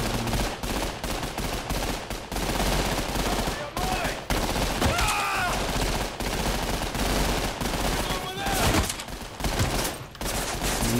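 Enemy gunfire in Trepang 2, a first-person shooter video game: loud, dense bursts of automatic fire and single shots, near and continuous for the whole stretch, with brief gaps, mixed with in-game effects and occasional voices.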